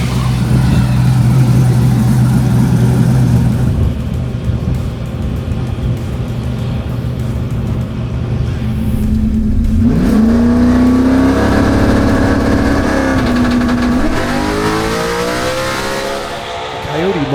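A Coyote-powered C10 truck engine revs hard as it launches off the line during a race, loud and rising with a sweeping pitch climb midway, with a voice talking over it.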